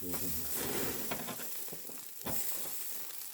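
Pork belly sizzles on a grill, a steady loud crackling hiss with small pops and a few clinks of utensils throughout.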